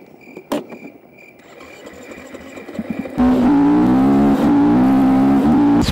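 A VW Passat engine, fitted with new tyres on a rural outing, idles quietly amid crickets before bursting into a loud, sustained rev that holds for several seconds.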